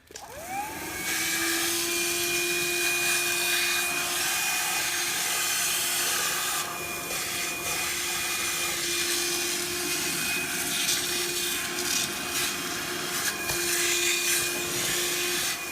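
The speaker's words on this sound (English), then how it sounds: "now I'm going to show you the vacuum with the small black attachment." A SOWTECH 6-in-1 cordless cyclonic vacuum running with a small black attachment gives a loud, steady high-pitched whine and airy suction hiss, close and continuous after a quick spin-up, with slight shifts as it moves.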